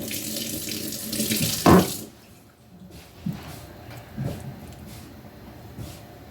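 Tap water runs into a kitchen sink while something is rinsed under it, a steady close splashing rush for about two seconds that stops, leaving a quiet room with a few soft knocks and small handling sounds.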